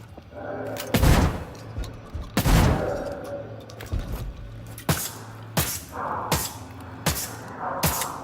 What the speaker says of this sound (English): these guys, I need to use a shotgun on them